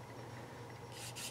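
A faint, soft rubbing over the sanded body of a Revell Ford F-100 Foose Edition model pickup, a steady low scrape ending in two short, brighter strokes.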